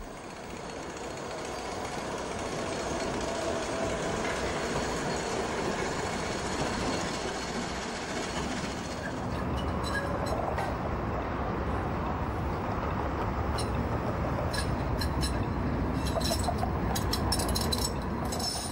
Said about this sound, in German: In der Gegenrichtung rollt ein Zug der Tramlinie 4 nach Hutholz.